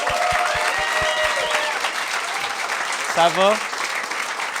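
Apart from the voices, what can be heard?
applause welcoming podcast guests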